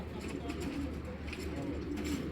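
A male Giribaz pigeon on a Bangladeshi loft farm coos softly in repeated low murmurs close to the microphone, with faint background noise and a bit of quiet talk.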